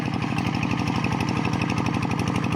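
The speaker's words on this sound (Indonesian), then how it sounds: "diganti dengan mesin berupa traktor tangan." Hand tractor engine pulling a plough through a tidal-swamp rice field, a loud, close, rapid rhythmic thumping chug that holds steady throughout with no voices.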